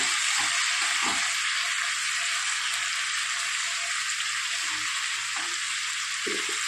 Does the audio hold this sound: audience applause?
no